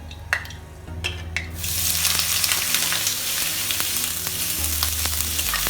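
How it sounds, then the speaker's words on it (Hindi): Paneer is dropped into hot refined oil in a kadhai on a gas stove and breaks into a loud, steady sizzle and crackle. Faint stirring clatters sit under the frying, and no one speaks. "अब हम पनीर डाल के भूजेंगे।"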